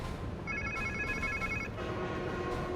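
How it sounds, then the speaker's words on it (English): A telephone rings within the Spider-Man 2 video game, a bright electronic ring tone pulsing for about a second amid constant background ambience, no voices present. "Follow the sound of the phone."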